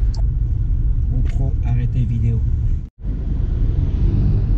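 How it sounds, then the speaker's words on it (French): Dense Saigon road traffic with scooters streams past as a steady low rumble of engines, with a brief drop near the middle. Someone speaks over the noise. "Comme vous pouvez le voir, la circulation est dense."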